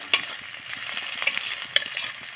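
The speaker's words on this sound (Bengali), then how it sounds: "এবার দিয়ে দিলাম পেঁয়াজ কুচি, একটু ভেজে নিচ্ছি।" Chopped onions fry with cumin seeds, dried chilli and whole garam masala in hot oil, a soft close sizzle broken by a few sharp stirring scrapes over a couple of seconds, no voices.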